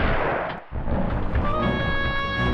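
Gunfire in the Tomb Raider 2 video game, set in the Ice Palace level: deep booming shots roll through a dense, rumbling game soundscape that stays loud throughout, with a brief dip before it resumes.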